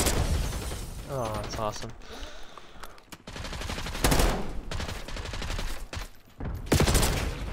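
Sniper rifle fire in the Black Ops 6 video game: several sharp, loud shots ring out amid busy in-game action and explosions, with a player talking excitedly over them.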